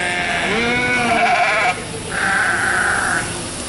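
A sheep being washed for a show contest bleats twice up close, a long wavering baa followed by a higher, flatter one, with faint background noise.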